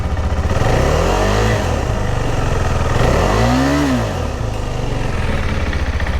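A KTM 390 Adventure motorcycle engine fitted with a Fuel X Lite and modified airbox lid, loud steady idle rising into two throttle blips that rev up and fall back, close by and with no talking.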